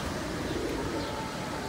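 Pigeons coo softly on a rooftop terrace, a low murmuring call heard faintly at a distance.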